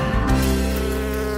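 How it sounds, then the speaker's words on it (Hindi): A bee buzzes close by over honey-drizzled waffles: one steady, unbroken droning hum that stays loud and even throughout, with no voices. "ओह, मधुमक्खी, तुम्हारी यहाँ जरूरत नहीं है।"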